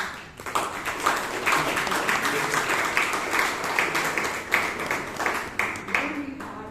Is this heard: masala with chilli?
no